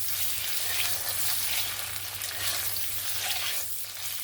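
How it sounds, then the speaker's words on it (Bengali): Eggs fry in hot oil until reddish for an egg curry, a steady, hissing sizzle with gentle swells and a faint low hum beneath, close and even throughout. "একদম লাল লাল করে সুন্দর করে ডিমটাকে কিন্তু ভেজে নিতে হবে।"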